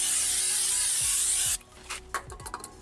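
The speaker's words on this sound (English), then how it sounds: "And I'm just going to give it a spray with some brake cleaner" Brake cleaner sprayed from an aerosol can onto a Ford Mondeo rear brake part, a loud continuous hiss for about a second and a half, then stopping, followed by a few light handling clicks.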